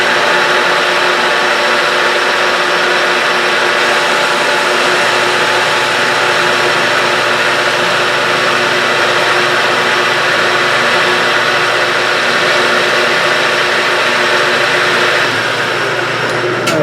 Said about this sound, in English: Give this a little facing.